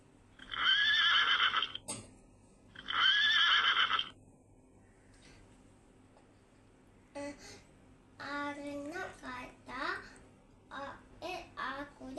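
A horse neighs twice as a sound effect in a children's story reading: two loud, drawn-out whinnies close together, followed by someone talking.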